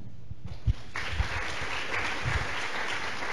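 An audience applauds in a lecture hall as a marine scientist is welcomed to speak, a steady wash of clapping building after a few scattered claps and holding evenly throughout.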